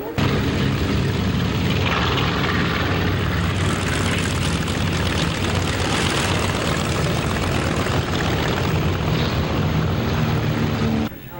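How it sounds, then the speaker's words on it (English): World War II vintage bombers and fighter planes at a 1980 San Diego Fourth of July air show fly past, a loud, continuous roar of piston propeller engines filling the whole stretch. "Then it was time to roll out the stars of the show, more than 40 World War II vintage bombers and fighters"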